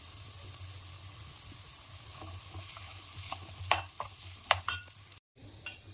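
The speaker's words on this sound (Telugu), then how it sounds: "ఇప్పుడు దాంట్లోకి రైస్ వేసేసుకుందాం" Cooked rice is stirred into a fried tamarind-leaf seasoning in a pan, a low sizzle running throughout. Spoon scrapes and clicks come in uneven bursts, growing louder toward the end, with a short pause before the stirring resumes.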